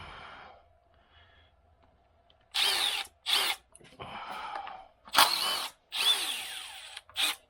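A power tool backs out the valve cover bolts on a Jeep JKU 3.6 in a run of loud, close bursts of whirring, each lasting under a second, separated by short pauses.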